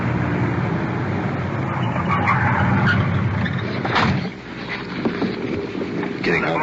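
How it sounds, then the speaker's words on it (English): A police-stopped suspect's car rolls up and over a curb during a night patrol, a steady engine rumble with scraping and thumps, a brief dip partway through, voices faintly under it. "The suspect is moving his car over the curb."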